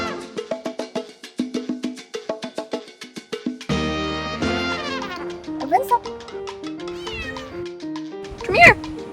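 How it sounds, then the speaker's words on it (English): Almendra, a traveling adventure cat, lets out a sharp meow near the end, following a run of plucked, tonal sounds. "This is my adventure cat Almendra."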